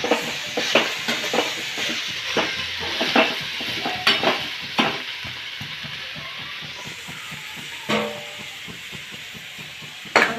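Masala with turmeric and black masala stirred in a pan for bhogi vegetable curry, giving a steady close sizzle with repeated scraping strokes of a spoon against the pan throughout.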